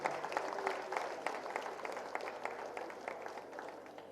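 Audience applause at a university talk, a dense, even patter of many hands clapping throughout, moderately distant and steady without a clear end.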